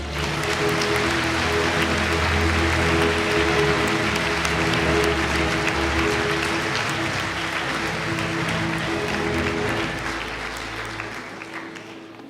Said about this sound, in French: Applaudissez Margot Mandeville.